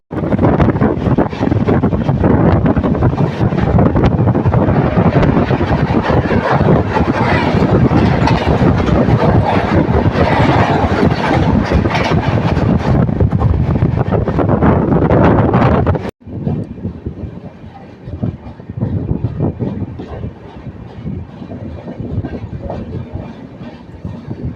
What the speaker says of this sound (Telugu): ఫ్రేట్ ట్రైన్, ఇది ఒక ఫ్రేట్ ట్రైన్.